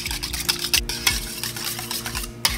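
Spoon or whisk stirring coconut milk, vanilla and batter in a bowl, with repeated close scraping strokes and soft clinks against the dish in a steady rhythm, no talking.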